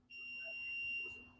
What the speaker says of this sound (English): you're hearing a beep sound from the multimeter